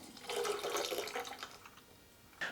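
Adey MagnaCleanse chemical being poured into a home heating system makes a close, brief gurgling liquid pour, then a short splash or knock at the end, with no talking.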